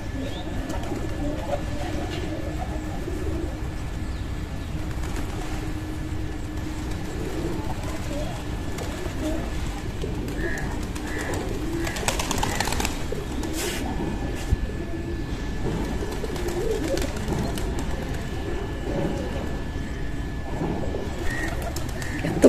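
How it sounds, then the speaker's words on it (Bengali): A large flock of pigeons on and around a rooftop in the morning, with soft cooing and a few brief wingbeat flutters heard over steady background noise and a faint distant rumble; a person talks nearby. "সব পায়রা, সব পায়রা, প্রচুর পায়রা।"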